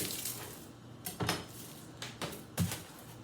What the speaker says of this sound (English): Let me get this little onion diced up.